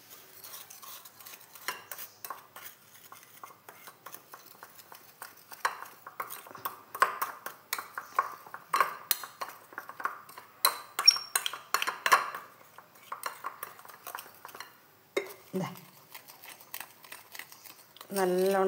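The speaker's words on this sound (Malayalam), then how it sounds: "ഈ ബൂസ്റ്റിനെ കുറച്ച് പാല് ചേർത്തിട്ട് നമുക്കൊന്ന് ഇത് ഇളക്കി യോജിപ്പിക്കണം" Boost powder and milk stirred with a metal spoon, with repeated light clinks and scraping against the cup, steady and close, growing busier midway, with a brief voice near the end.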